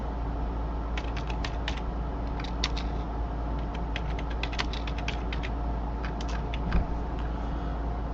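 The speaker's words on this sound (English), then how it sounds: "I'm going to type it in." Steady clicking of fingers typing on a computer keyboard, irregular bursts of sharp keystrokes with short pauses, close and clear over a low background hum, with no talking.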